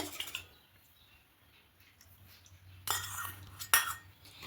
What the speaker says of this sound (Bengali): এবারে ডিমটাকে ফেটে নেব